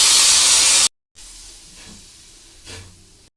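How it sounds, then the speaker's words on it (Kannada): A pressure cooker holding sweet pongal vents steam, with a loud, close hiss that cuts off abruptly and is followed by a softer, fluttering hiss with brief surges. "ಈ ಕಡೆ ವಿಷಲ್ ಸಹ ಕೂಗಿದೆ"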